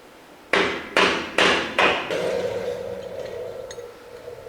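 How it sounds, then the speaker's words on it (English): Four hard metallic hammer blows strike a stuck bolt on a 1956 Chevy, evenly spaced and ringing briefly, loud and near, followed by a lingering low rumble. "We have a hammer."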